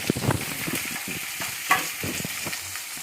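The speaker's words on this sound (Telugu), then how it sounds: "ఇదండి ఆనియన్, పచ్చిమిర్చి, ఆనియన్ వేస్తున్నామండి." Chopped onions and green chillies frying in oil in a pan for a vegetable semolina and vermicelli dish, a continuous close sizzle with scattered stirring scrapes and taps, no talk over it.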